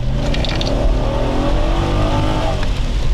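An Audi S6 C5 with a 4.2 V8 and automatic gearbox pulls away, its engine loud and close, a deep continuous rumble rising in pitch as it revs, with no voices.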